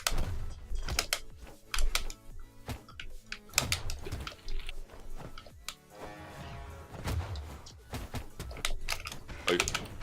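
Computer keyboard keys clattering rapidly during a Brawlhalla match, close irregular bursts of clicks mixed with game sounds.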